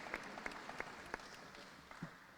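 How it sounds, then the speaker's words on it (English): Faint, distant applause for guests at a university press event introducing a new men's basketball head coach, soft steady crowd clapping with a few sharper individual claps standing out. "Please give them a warm round of applause for being here this afternoon."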